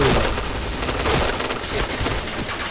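XM2010 sniper rifle fire in the shooter game PUBG, landing a headshot: a short, loud, dense burst of cracking shots and impacts layered over game noise, with no voices.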